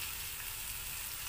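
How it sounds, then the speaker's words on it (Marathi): Capsicum (bell pepper) frying in a pan over a low flame, a steady close sizzle with no voices. "यामध्ये आपण शिमला मिरची टाकणार आहोत।"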